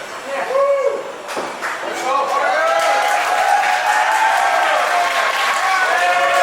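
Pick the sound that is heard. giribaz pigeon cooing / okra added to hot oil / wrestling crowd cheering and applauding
wrestling crowd cheering and applauding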